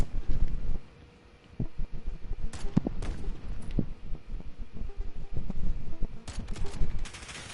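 Gunfire in the Call of Duty: Modern Warfare video game, loud automatic shots with booming reports over wind-like rumble, a short lull early on, then sustained bursts resuming to the end.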